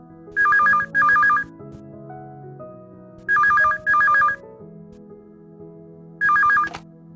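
A telephone rings for a call to a tyre shop: three loud, close double-burst rings in an even cadence, separated by pauses filled with a soft background melody.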